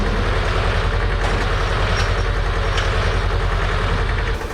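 Cheap diesel manlift engine running steadily while the machine backs up, a loud, close, low rumbling idle with a constant throb throughout.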